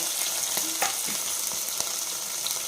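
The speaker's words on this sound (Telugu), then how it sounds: "ఉల్లిపాయ ముక్కలు పచ్చిమిరపకాయ ముక్కలు బాగా వేగాలండి" Onion and green chilli pieces fry in hot oil, crackling and sizzling steadily up close with occasional stirring scrapes.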